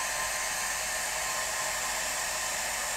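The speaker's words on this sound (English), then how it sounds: "let me get the hairdryer on this." A hair dryer drying an acrylic painting blows a constant, loud, even hiss of air from start to finish, with no voices and no other sounds.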